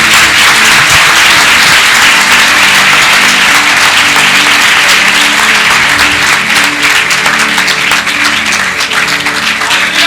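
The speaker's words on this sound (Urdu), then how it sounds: "ਤਾਲੀਆਂ ਦਾ ਗੱਜ ਕੇ ਵਜਾਓ ਯਿਸੂ ਲਈ" A church congregation claps loudly for Jesus during Pastor Tariq Wilson's sermon, a dense, sustained roar of applause that fills the whole stretch without letting up.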